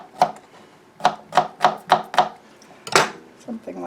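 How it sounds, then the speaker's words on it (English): A knife chops garlic into large pieces on a cutting board, about eight sharp, close knocks in a quick, uneven rhythm with no talking. "we're also going to chop up our garlic"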